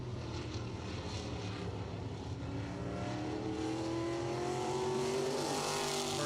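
Race car number 54 on a qualifying lap at Langley Speedway, its engine a steady, loud drone whose pitch climbs smoothly as it accelerates, with a faint rushing wash behind it.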